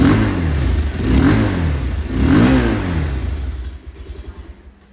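A Bajaj Pulsar 220F motorcycle engine revs loudly up close, rising and falling in two strong surges before settling back toward idle.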